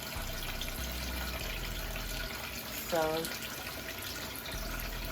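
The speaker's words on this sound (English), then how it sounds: "And again, I am using warm water." Warm water runs from a tap into a sink while makeup brushes are rinsed, a low steady splashing flow with a brief burst of water in the middle, under a quiet voice.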